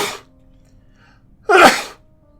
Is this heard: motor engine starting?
no